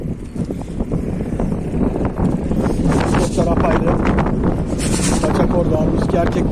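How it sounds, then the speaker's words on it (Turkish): Strong wind buffets the microphone in a steady, roaring rush, with gusts swelling and fading throughout. "Rüzgar şiddetini arttırdı."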